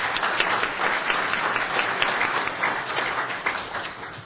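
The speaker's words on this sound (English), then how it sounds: "we should clap for that" A crowd applauds steadily for a few seconds at a committee meeting, a dense patter of clapping at moderate volume.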